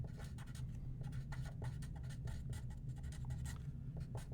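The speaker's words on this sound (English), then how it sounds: "I'll just write that out" Pen or pencil on paper writes out a math answer by hand, producing quiet, close, irregular scratchy strokes in quick rhythmic bursts over a low background hum.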